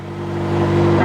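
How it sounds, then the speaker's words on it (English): A 2019 McLaren 570S Spider engine fires up and settles into a steady, close, loud idle hum with a slight swell toward the end, heard alone. "I'm gonna go ahead and hold down the brake and fire up this car"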